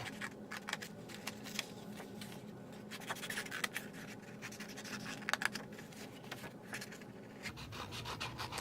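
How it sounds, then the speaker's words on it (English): Scissors snip flaps into patterned paper for a card, a run of faint, close, irregular cutting and rustling strokes, all quiet with no voices. "you're going to go ahead and cut the flaps"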